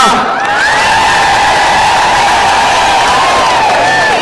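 A crowd at a Kenyan presidential launch event ululates loudly, with warbling high trills rising over continuous cheering and shouting.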